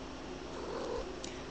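A pet cat purring close by in a bathroom, a soft continuous low rumbling hum, faint and steady with no speech.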